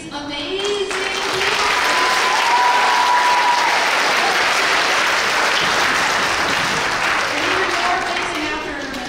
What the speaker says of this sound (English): One more round of applause for these amazing.